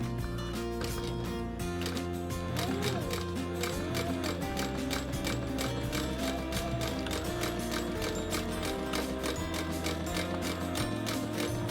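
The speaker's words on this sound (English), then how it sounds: "So we're gonna do a little back stitch, and then we're going forward again." A sewing machine runs continuously while back stitching and then stitching forward on a one-inch crossbody strap, giving a steady rapid mechanical clatter close by at an even level throughout.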